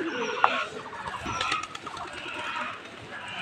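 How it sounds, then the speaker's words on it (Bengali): Pet pigeons in a village setting coo softly nearby, a low murmuring call with a few sharper chirps and faint rustling over steady outdoor background noise. "আয় আমার শখের কবুতর,"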